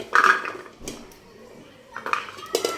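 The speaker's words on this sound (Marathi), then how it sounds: "आता आपण एका मोठ्या कुकरमध्ये ह्या सगळ्या भाज्या ज्या आहेत त्या आपण टाकून घेणार आहोत" Chopped vegetables (carrots, peas, beetroot, potatoes, cauliflower) dropped into a large pressure cooker, giving a few clattering metal knocks and thuds spaced apart, close and fairly loud.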